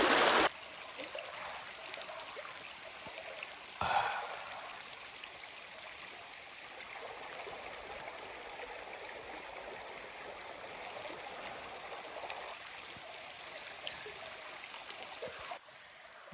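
A river runs through a rainy canyon, a steady, close rush of flowing water that continues for the whole stretch, with a couple of brief louder splashes near the start.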